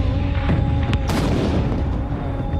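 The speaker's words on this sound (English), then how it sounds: "The Russian attack on Redoubt number 1 began at dawn when a massed battery of more than 30 heavy cannons opened fire." A massed battery of more than 30 heavy cannons opens fire at dawn, heard as a few loud booming reports over a continuous rumbling roar, the largest blast about a second in.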